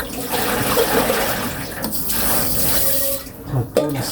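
A kitchen sink is washed and wiped with running water, a steady close splashing and rushing stream with a few brief clatters near the end.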